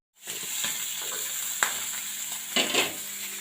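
Dried chilli and panch phoron spices sizzle and crackle in hot fish oil in a pan, a steady close frying hiss with a few sharp pops and spoon scrapes.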